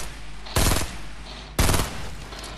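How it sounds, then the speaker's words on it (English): Two short bursts of rapid automatic gunfire in the video game Fortnite, about a second apart, loud and close against a quiet background hum, with no speech. "Why are you shooting?"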